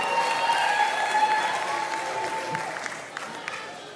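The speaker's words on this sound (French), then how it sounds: "Est-ce qu'on peut applaudir pour Ruth, s'il vous plaît?" A talent show final audience claps, a dense wash of applause that starts loud and slowly thins and fades toward the end, with a voice faintly audible through it.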